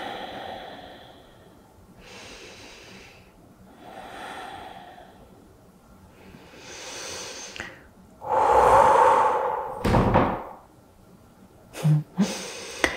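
Slow, audible breaths in and out during a yoga forward fold, soft and close, with a stronger, louder exhale near the end and a couple of brief sharp sniffs.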